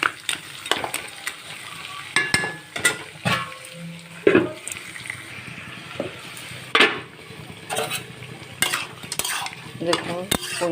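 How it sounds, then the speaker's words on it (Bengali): A spoon stirs fish head into pui shak ghonto, a Bengali greens curry, in a pan, with repeated scraping knocks against the pan over a soft steady sizzle, close and fairly loud. "এই মাছের মাথাটা দিয়ে দেবো, দিয়ে একটু নেড়ে চেড়ে নেব 2-1 মিনিট"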